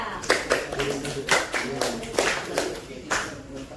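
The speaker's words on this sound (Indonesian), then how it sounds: "Tepuk tangan dulu untuk kelompok 3." Scattered classroom clapping for a student group during a teaching practice lesson, a few uneven bursts of hand claps at close range with a voice speaking between them.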